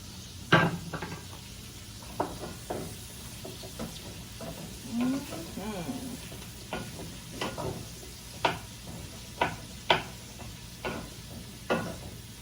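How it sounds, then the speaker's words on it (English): Vegetables cooking in a pan with a soft background sizzle, punctuated by scattered clacks and taps of a utensil and cookware at irregular intervals. "I'm gonna let these vegetables cook, do their thing"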